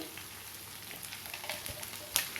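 Cabbage sizzles in a pan while vegetable Maggi is cooked, a soft, steady crackle with scattered pops and a louder spatter near the end.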